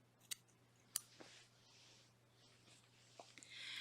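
Scissors trim yarn tails off a crocheted blanket, with a few sharp separate snips close by and soft handling sounds in a quiet room.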